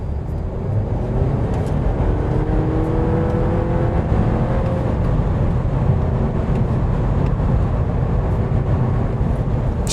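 A VW T-Roc R-Line with all-wheel drive cornering on the road, its engine giving a loud, steady drone inside the cabin along with constant road and tyre rumble.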